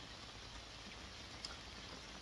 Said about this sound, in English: It's starting to rain pretty strong